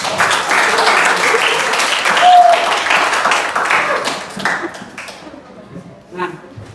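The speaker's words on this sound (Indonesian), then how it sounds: "Berikan aplaus buat Ayu." Applause from students in a classroom breaks out in a dense patter of clapping, loud and continuous for several seconds, then thins out and fades with a few scattered claps at the end.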